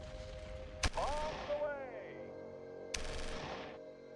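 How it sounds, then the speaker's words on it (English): A game airstrike in Shadow Empire: two sharp, loud gunfire-like cracks spaced about two seconds apart, each followed by a short ringing, warbling tail over a quiet background. "Maybe we'll do an airstrike on this one."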